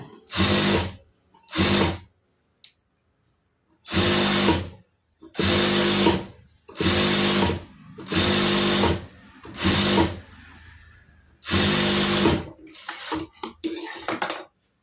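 A sewing machine stitches a blouse hem in repeated loud bursts of a second or so, separated by short pauses, heard up close.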